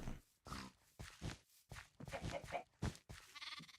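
Sheep bleating in the Minecraft modpack FTB One Skies, a series of repeated in-game bleats in quick succession, close and fairly loud, with no talk over them.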